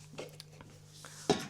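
A pot of salted water is handled in a home kitchen during beet sour preparation: a few faint metallic clinks and scrapes, then one sharp, louder clank near the end, with no voices.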